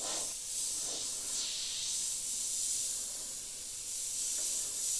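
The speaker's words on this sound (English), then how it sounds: "Comfortable airbrush to use." A Sparmax Max 4 airbrush sprays paint with a soft, steady airy hiss that swells and eases in gentle pulses, close and fairly quiet, with no talking.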